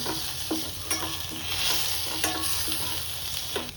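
Sliced tomatoes hitting a hot pan of pepper rasam base, a steady close sizzle and frying hiss with scattered stirring scrapes throughout, alone with no talk.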